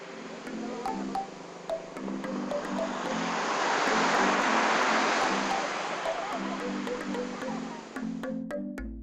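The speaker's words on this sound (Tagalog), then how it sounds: "Sa likod lang ng bahay ang mismong dagat." Surf rolling onto the shore of Jomalig Island, a steady broad wash of waves that swells and recedes, close by, with a soft melodic tune running underneath.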